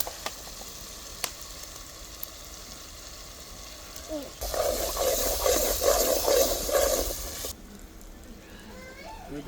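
Spices fry in a pan on a garden stove, with a sudden loud sizzling burst that swells for a few seconds and then cuts off, set against quiet outdoor background with a few faint clicks.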